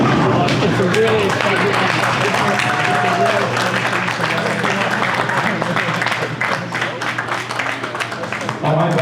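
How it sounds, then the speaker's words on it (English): Round of applause from a bowling crowd at a televised bracket elimination match: sustained clapping mixed with crowd babble and a voice over a PA, loud and dense throughout. "I got a round of applause for all of the players tonight"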